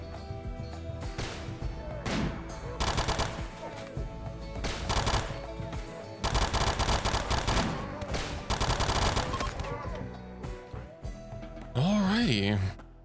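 Video game gunfire rattles in repeated loud bursts separated by short gaps, with a voice talking over parts of the action.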